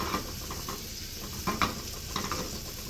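Butter sizzles in a non-stick pan, a soft steady frying hiss punctuated by a few light taps and scrapes of a utensil.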